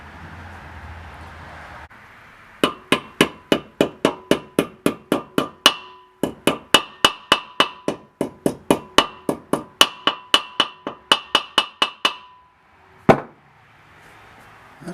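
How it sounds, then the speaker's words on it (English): Rapid metallic hammer strikes pound a seal into a trailer part, dozens of sharp, evenly spaced blows in two long bursts, then a final heavy knock, close and loud. "this has to go in here like this. You have to pound it in."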